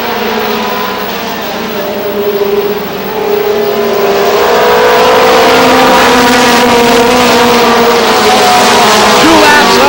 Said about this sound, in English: Marsan and Normandin right there in the 55 car. They'll work down the back straightaway